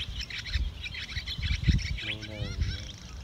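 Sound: flock of swallows calling at roost

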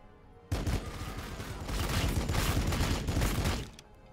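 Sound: gunfire in Warhammer 40k Battlesector video game

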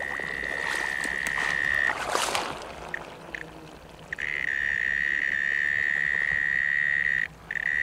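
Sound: insect call buzzing like a septic tank blower

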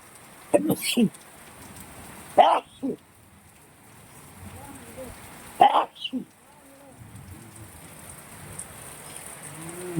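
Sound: heavy rain falling

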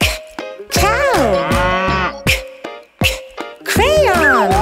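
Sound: cow mooing

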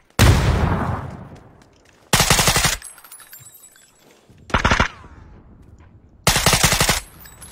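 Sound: gunfire and grenade in a video game

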